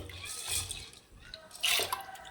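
Water poured into a pan on the stove, a brief splashing trickle rising in bursts, close and fairly soft, with a fuller gush near the end.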